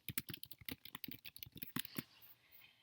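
Keys on a computer keyboard clack in quick, uneven bursts for about two seconds, close and fairly quiet, before stopping into near silence.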